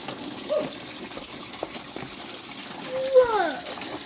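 Fluid gushing out of a car after its cap is removed, a steady watery rush with a brief louder surge near the end, heard close and alone.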